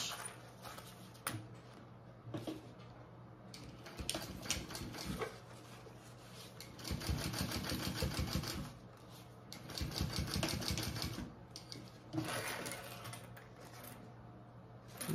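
A sewing machine top-stitches a fabric waist pack in several bursts of rapid mechanical whirring and needle clatter, separated by short pauses, close and fairly quiet, with no talk.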